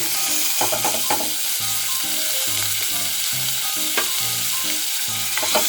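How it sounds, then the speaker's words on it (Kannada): Mustard and cumin seeds crackle as they fry in a pan with curry leaves and chopped beetroot: a close, steady sizzle dotted with sharp pops and rhythmic scraping of a stirring spoon. "ಸಾಸಿವೆ ಜೀರಿಗೆ ಚಟ ಚಟ ಅಂದಿವೆ"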